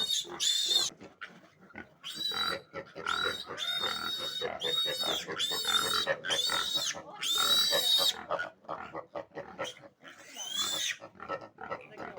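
Pigs grunt and squeal repeatedly up close, a busy stream of snorts and high-pitched oinks with brief pauses.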